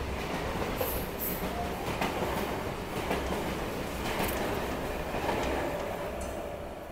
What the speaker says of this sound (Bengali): তালদি থেকে একটা ট্রেন কিন্তু হুস হুস শব্দ করে এখানে না দাঁড়িয়ে চলে গেল সোজা ক্যানিংয়ের উদ্দেশ্যে।